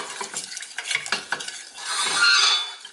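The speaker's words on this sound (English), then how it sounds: "I'm going to go in with just a little water because we want to make a thick syrup. Okay, so stir that." Brown sugar and a little water are stirred into a thick syrup for ginger biscuits, a spoon scraping and clinking in a pan in short strokes, then a steadier sizzling hiss.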